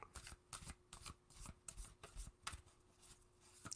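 Playing cards are shuffled close by, a run of quick riffling bursts in an uneven rhythm, soft and crisp, with no voices over them.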